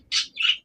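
A racer pigeon gives two quick, bright squawking calls in succession, close and fairly loud, with silence around them.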